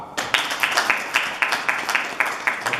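Steady clapping from an audience at an MMA press conference, a brisk run of hand claps with crowd noise beneath, no speech.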